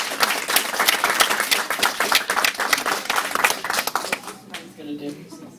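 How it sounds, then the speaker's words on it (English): A room full of people applauds at a residents' association history gathering, dense steady clapping that tapers off near the end as the crowd settles. "we're all going to give a big applause"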